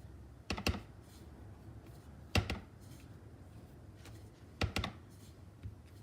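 Rubber stamp inked with Pear Pizzazz ink pressed onto a paper card, three clusters of sharp, close taps spaced about two seconds apart over a quiet room, no talking.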